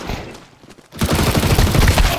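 Rapid volley of gunfire in a video game, reportedly a Desert Eagle, bursting in loudly after a brief lull and continuing as dense, close, overlapping shots to the end.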